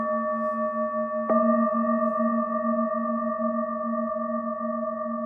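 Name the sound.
two singing bowls ringing together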